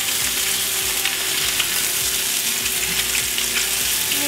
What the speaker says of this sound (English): we're going to just sear this for maybe another 2 to 3 minutes